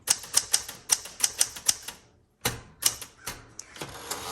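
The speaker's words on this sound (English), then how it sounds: "Very, very nice typewriter" Keys strike steadily on a like-new 1973 Galaxie Twelve manual typewriter, a brisk run of sharp clacks, a brief pause, then more keystrokes and a carriage or lever clunk, close and clear with no talking.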